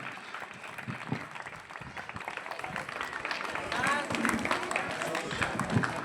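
A crowd of students and guests at a village primary school's Republic Day function applauds students receiving prizes, a continuous, moderately distant wash of many clapping hands that builds toward the end, with no talk over it.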